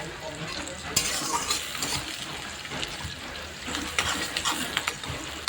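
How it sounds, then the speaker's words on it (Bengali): Food frying in a pan until reddish brown, a steady sizzle with scraping stirs and clinks of a utensil recurring throughout, close and fairly loud, with no talking. "আমি ওটা ভেজে নিচ্ছি লাল লাল করে।"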